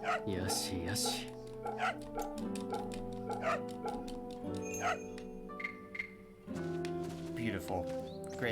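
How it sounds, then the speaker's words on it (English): A dog in the video game Fate/Samurai Remnant gives short yips and whimpers over layered game music, with someone talking over parts of it. "Let me pet the dog."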